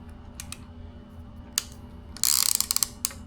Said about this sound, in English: Just give you a little clicker noise.